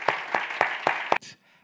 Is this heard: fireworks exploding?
no